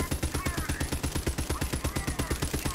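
Rapid, sustained automatic gunfire from a weapon in the Borderlands 3 video game, an evenly spaced stream of loud shots running the full length without a break.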